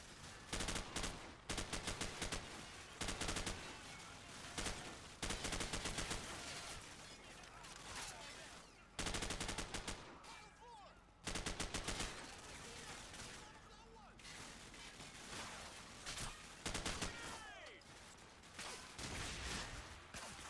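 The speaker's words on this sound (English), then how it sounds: "just the amount of gunfire that's going on in here without any resolution" Sustained, heavy gunfire from the Call of Duty 4 video game, with dense bursts of automatic fire and explosions repeating almost continuously, loud and chaotic, with voices faintly underneath.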